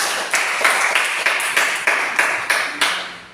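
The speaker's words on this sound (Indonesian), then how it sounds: "Iya, tepuk tangan dulu untuk Raiska." A classroom of students clapping for a classmate after her project reflection, a steady run of hand claps in repeated bursts, fairly close and moderately loud with no talk over it.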